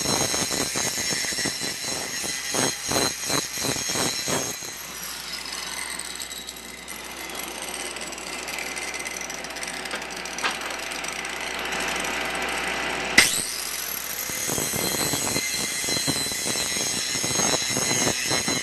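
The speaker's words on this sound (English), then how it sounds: "Now's a good time to take your angle grinder and put a nice bevel on these edges." Angle grinder beveling the edges of steel plates for an iron railing, a loud harsh grinding whine with rapid pulsing bursts at the start, a long steadier grind in the middle, and renewed pulsing bursts after a sharp click near the end.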